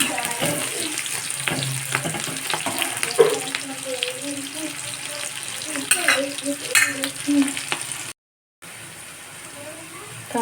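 Onion sautés in a pan with a continuous sizzle while a spoon scrapes and clatters against the pan in irregular stirring strokes, up close, broken by a brief silent gap near the end.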